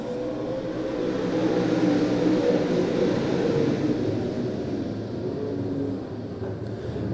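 A field of A-modified race cars accelerating together at the green flag start on a raceway, a dense, loud, sustained engine roar with steady intensity that eases slightly toward the end.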